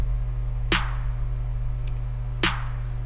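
A sparse electronic drum pattern programmed in the FL Studio 10 step sequencer: a sustained low kick tone with two sharp clap hits about 1.7 seconds apart.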